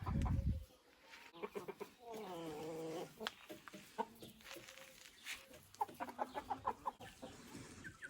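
A Faverolles rooster and hen make repeated soft clucks and short calls at a farm coop. The clucking is close and irregular, with a brief rumble at the start and faint background noise.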